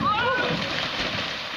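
A canoe tips over into a lake with a sudden loud splash and churning water, while people shout and talk close by.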